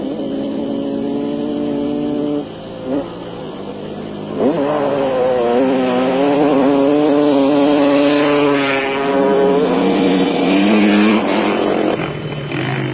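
KTM off-road racing motorcycles in a South African off-road race charge past, their engines revving loudly with rising and falling pitch, one approaching and building to a sustained close roar.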